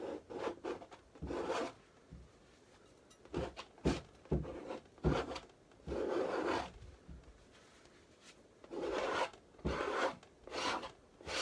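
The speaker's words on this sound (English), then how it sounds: "I'm going to scrape that off." A tool scrapes smeared paint off a painting in short rough strokes of varying length, close and fairly loud, separated by quiet pauses.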